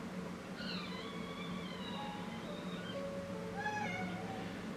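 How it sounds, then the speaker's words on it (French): A large, overweight house cat meows several times, thin drawn-out calls over a steady background hum indoors, with no talking. "Le chat il est rentré, il joue avec un petit morceau de plastique."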